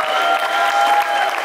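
Church congregation at an evening conference giving a loud, dense burst of clapping, many hands together filling the room steadily.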